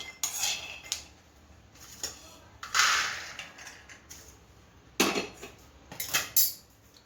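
Roasted peanuts being tipped from the pan onto a metal plate: scattered clinks and scraping rattles arrive in a few bursts with quiet gaps between them. The sounds are close and there is no talk.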